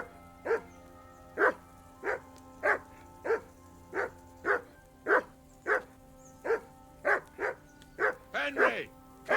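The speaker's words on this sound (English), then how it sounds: "call that dog to heel." A dog barking in the medieval game Kingdom Come: Deliverance II, about fifteen evenly spaced barks at moderate distance, with a rougher flurry of barks near the end.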